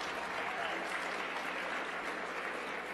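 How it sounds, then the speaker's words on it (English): An audience applauds a speaker at a Nevada political event, a full, even wash of clapping from a large crowd that holds steady throughout without a break. "Let's give another round of applause to Rosana Romero because she's doing an excellent job."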